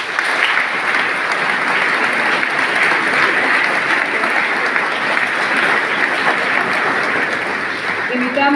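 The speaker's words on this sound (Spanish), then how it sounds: "Brindémosles un fuerte aplauso" A municipal scholarship award ceremony hall fills with dense, sustained applause from the gathered audience and invited guests, even and loud from start to finish with no break.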